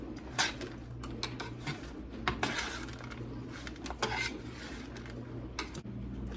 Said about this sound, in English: this has baked for 15 minutes, and I'm just going to kind of give it a stir